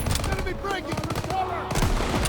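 Rapid automatic gunfire in Call of Duty WWII, fired from a prone position, comes in quick close bursts mixed with game sounds while a voice talks over it.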